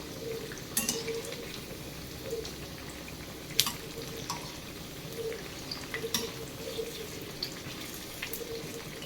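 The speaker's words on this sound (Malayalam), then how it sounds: "നമ്മൾ ആദ്യം എണ്ണയിലിട്ട വടയൊക്കെ നല്ല ഗോൾഡൻ കളറായിട്ട് വന്നിട്ടുണ്ട്, ഫ്രൈ ആയിട്ടുണ്ട്" Jackfruit vadas (chakka vada) turn golden in hot oil, giving a steady sizzle broken by occasional sharp crackles and scrapes, with no voices.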